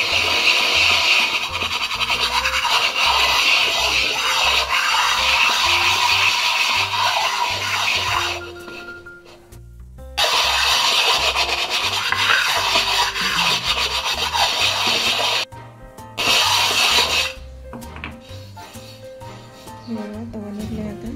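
A blackened iron tawa is scrubbed with dampened Pitambari powder, making rapid, rhythmic rasping strokes in bursts with short pauses between, close and fairly loud.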